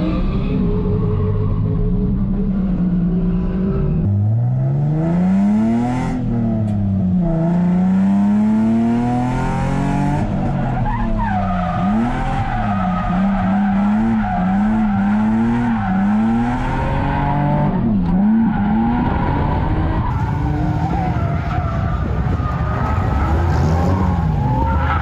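A Nissan 350Z drifts around the Pocono Raceway drift lot, its engine revving and falling in long sweeps while the tires squeal in repeated rising and falling wails, loud and close throughout.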